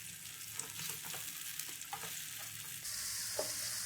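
Sliced tomatoes with onions sizzle steadily in a pan, a close, continuous frying hiss broken by small stirring scrapes and pops, growing a bit louder toward the end, with no talking.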